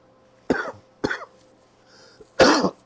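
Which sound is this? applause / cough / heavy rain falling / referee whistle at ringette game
cough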